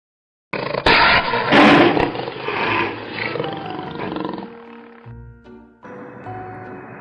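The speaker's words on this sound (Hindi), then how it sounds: "Elephant" A loud elephant trumpeting roar, rough and drawn out, followed by fading rumbles and a short tonal call at the end.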